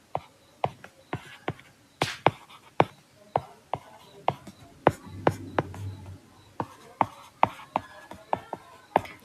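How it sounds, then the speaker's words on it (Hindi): Chalk or marker tapping and scratching out a chemical equation on a board, a steady series of short sharp strokes with a soft low murmur partway through. "मैं इक्वेशन यहाँ पे लिख देती हूँ"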